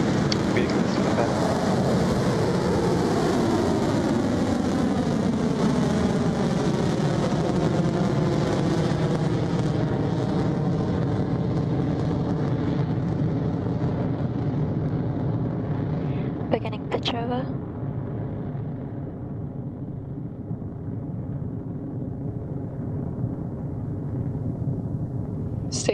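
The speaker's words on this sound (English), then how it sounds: "There goes our 76th launch with a nice clean liftoff from Launch Complex 1" Sustained broadband roar of a rocket liftoff from nine Rutherford engines at Launch Complex 1, loud and steady and slowly fading as the vehicle climbs away, with a couple of brief crackles near the end.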